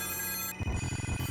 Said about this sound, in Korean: 사무실에 있는 모든 전화기가 동시다발적으로 울린다.